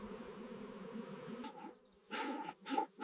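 Worker bees buzzing at a hive during Turkish honeycomb beekeeping, a steady insect drone for about a second and a half, then dropping away before returning in louder close bursts.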